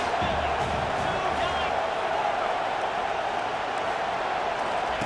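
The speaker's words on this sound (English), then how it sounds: "Decibels rising as the crowd gets behind this defense on 3rd down" A stadium crowd at a Washington versus South Carolina college football game swelling in noise on a third down, a dense, continuous roar that stays loud throughout, with no distinct voices standing out.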